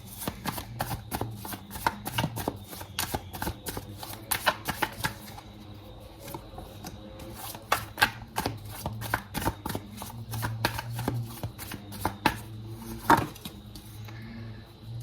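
Tarot cards shuffled by hand in a rapid run of crisp riffling slaps and flicks, close and fairly quiet, continuing steadily with brief pauses and no talking.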